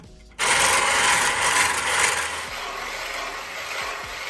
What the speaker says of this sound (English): whip it until it gets whitey color